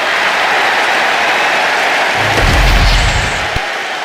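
Wrestling arena crowd at a televised SmackDown show roars and applauds in a steady, loud wash of cheering, swelling with heavier low rumble and stomping partway through.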